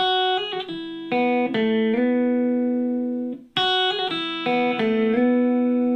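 A clean electric guitar plays a short solo phrase from a song with quick pull-offs to E, notes ringing out, then the phrase repeats after a brief gap.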